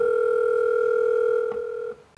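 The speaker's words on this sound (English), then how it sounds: "There we go, phone call." Outgoing phone call dialing through a cheap portable Apple CarPlay head unit in a car: a steady loud ringback tone held for about two seconds, then cutting off.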